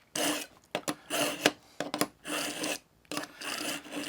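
Repeated rasping strokes of a knife blade drawn through an AccuSharp knife and tool sharpener, steady back-and-forth scraping in close, rhythmic passes, working toward the tip.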